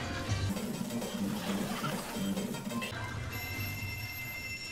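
A phone rings with repeated electronic trill bursts, quiet and fairly distant, under a muffled background.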